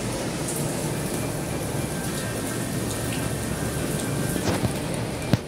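Heavy, steady rain pouring down, a dense hiss of drops on surfaces with a few sharper drips near the end.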